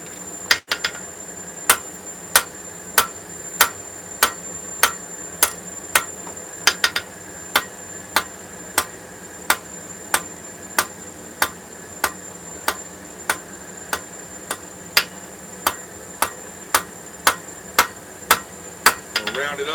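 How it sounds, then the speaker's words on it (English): Hammer blows forging a metal wizard head, striking in a steady, evenly spaced rhythm of sharp metallic rings, about one or two per second, close and loud over a faint steady background hum. "We're forging wizard head"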